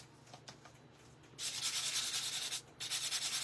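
Nail file buffing rubbed across an embossed paper card piece, giving close, soft scratchy strokes that start quiet then turn into two longer rough sanding bursts.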